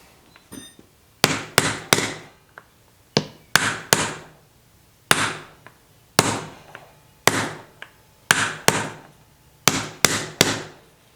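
A hammer tapping on the headstock of an 1890s metal lathe under restoration, about twenty sharp, ringing blows in irregular pairs and singles, close and loud with short decays.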